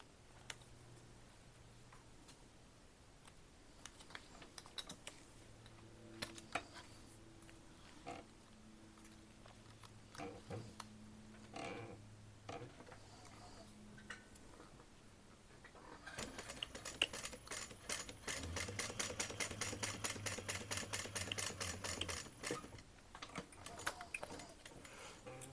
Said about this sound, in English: So now I'm going to stitch that up